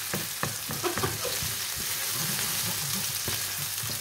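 Beef and vegetables sizzle steadily in a pan with crackling and spatters, while a utensil stirs and scrapes with a few sharp knocks, close and continuous.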